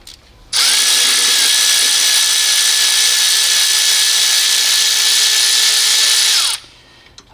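A power tool on a 14mm alternator bolt of a Toyota Camry runs for about six seconds as a loud steady whine close up, cutting in sharply and winding down at the end.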